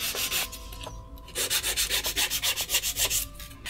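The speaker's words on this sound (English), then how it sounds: "And now you can file the rest of the nail, the body, all the body of the nail." Nail file rasping across a long acrylic stiletto nail, quick rhythmic back-and-forth strokes, close and crisp, about a dozen rapid passes after a brief pause, with no voices.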